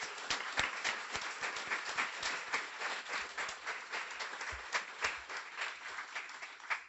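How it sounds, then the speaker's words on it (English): Quiet, fairly distant clapping from the audience at a guide dog school graduation ceremony, with irregular sharp claps and no talking. "Let's have a round of applause for the class."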